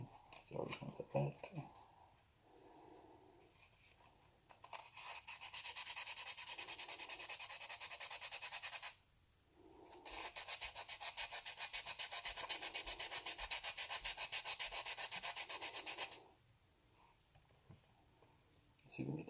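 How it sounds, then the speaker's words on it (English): Alberta ammolite gemstone being sanded by hand with sandpaper, a steady abrasive rasping in two long sustained bouts with brief pauses, close and fairly loud, with a few quieter handling sounds at the start and end. "Get the sandpaper in."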